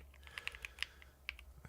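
Quiet, scattered keystrokes on a computer keyboard, a handful of light clicks in an uneven rhythm over faint background hum, with nobody speaking.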